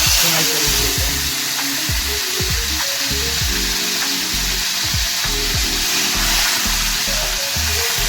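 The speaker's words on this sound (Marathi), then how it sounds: "आता आपण कोलंबी तेलामध्ये फ्राय करून घेऊया." Prawns fry in hot oil with a loud, continuous hiss and sizzle throughout, over low background music.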